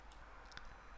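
A single mouse click on the import button in BEXEL BIM software, a sharp faint tick near the middle, heard alone against a low steady hum.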